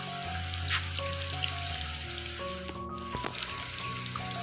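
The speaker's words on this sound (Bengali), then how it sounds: "ভালোই বৃষ্টি হচ্ছে।" Steady rain falls outdoors on a wet day, a dense, continuous patter of drops under an open sky with background music playing throughout and no voices.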